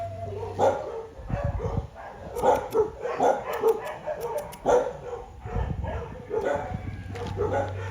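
Multiple dogs bark and yip at a rescue dog shelter in Puerto Escondido, some near and some farther off, while people talk over the noise.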